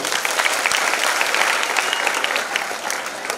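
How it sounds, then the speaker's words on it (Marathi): An audience breaks into steady, dense applause to congratulate the warkari devotees, the clapping sustained and even for the whole stretch with no voices on top. "माऊलींचं टाळ्या वाजून आपण अभिनंदन करू."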